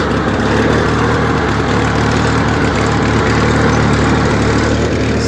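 A John Deere 316 garden tractor engine idles loudly and steadily up close, a constant low rumble and throb with no change in speed and no voices.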